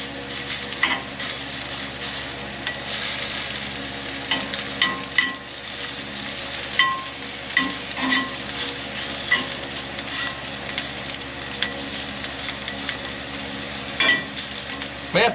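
Sausage fries in a skillet at an off-grid cabin in Alabama, a continuous close sizzle broken by scattered scraping and clacking as it is stirred, with no talk.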